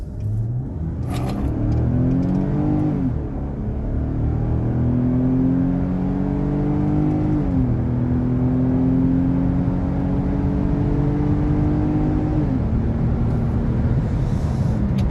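A Lexus engine with a cold air intake revs up through the gears, pitch climbing and dropping at each shift, a steady loud whooshing drone from inside the cabin with windows up.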